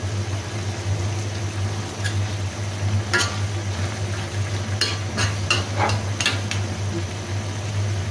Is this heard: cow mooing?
no